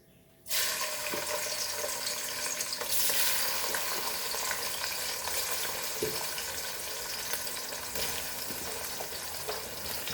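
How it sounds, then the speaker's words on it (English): Brinjal pieces frying in a pan for a Goan sweet pickle, a steady loud hiss of sizzling oil that starts abruptly and runs on without pause, with no talking. "Now we'll fry this, okay?"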